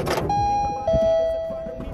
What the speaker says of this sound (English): I just hit the bell.